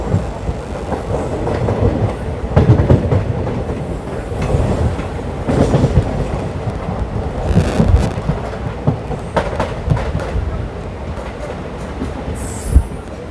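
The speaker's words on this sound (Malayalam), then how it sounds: "ട്രെയിൻ അങ്ങനെ ഷൊർണൂർ ജംഗ്ഷൻ റെയിൽവേ സ്റ്റേഷനിലേക്ക് എത്തിയിരിക്കുകയാണ്" The Parasuram Express rolls into Shoranur Junction railway station with loud rumbling, rhythmic wheel clatter over rail joints and occasional high squeals of braking wheels, steady and close.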